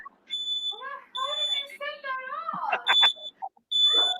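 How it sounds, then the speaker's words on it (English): A high, steady electronic beeping repeats in short bursts, interleaved with warbling chirps that resemble a detector's alarm tones. "You hear that beep beep sound? Yep. Better take your smoke detector."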